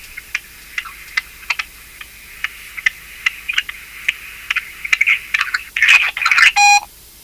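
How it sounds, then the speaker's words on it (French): A phone answered by accident inside a pocket while its owner walks picks up a steady series of muffled ticks and taps, building into denser scraping rustles near the end. "Il a effectivement décroché le téléphone dans sa poche et il marchait avec."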